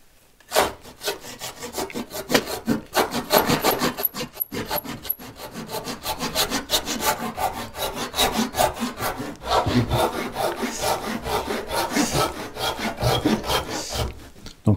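Hand saw cutting through wood, a steady run of close, loud rasping strokes repeated in a regular back-and-forth rhythm with a brief pause partway through.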